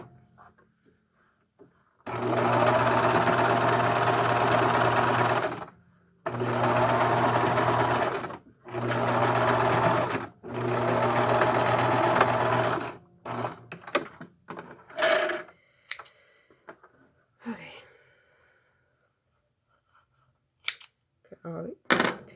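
A sewing machine stitches fabric for a medical face mask in several long steady runs of rapid mechanical whirring separated by short pauses, then clicks and snips of thread trimming, with a person talking in between.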